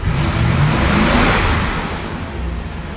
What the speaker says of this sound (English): I put it in drive, and I put my foot on the brake, and I hit the gas